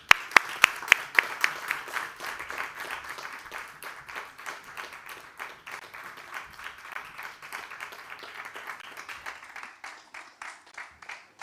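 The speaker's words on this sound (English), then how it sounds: "let's please give a huge round of applause for our three fabulous speakers" Welcoming three panel speakers, a handful of sharp, close individual claps open into full audience applause that holds steady and then thins out gradually as it nears the end.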